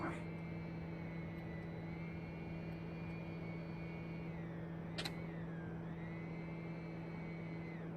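A TBM900 turboprop climbing after takeoff in the X-Plane 11 flight simulator, a steady engine drone with a high whine that dips and rises in pitch, continuous and close, with one brief click midway.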